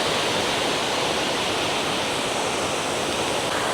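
Water pours steadily over a waterfall in Springbrook National Park, a dense, unbroken roar of rushing flow that fills the whole moment at close range, with no voices over it.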